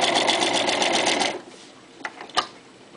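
A Toyota FSG325 sewing machine running a triple stitch, a loud, fast, rhythmic mechanical chatter for about a second and a half, then stopping, followed by a few faint clicks.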